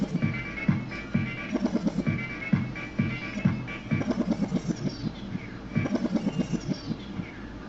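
In Virtual DJ, a backspin performed while a loop keeps playing produces repeated stuttering rewind sweeps chopped against the looping beat, a rhythmic chain of short pulses and falling sweeps.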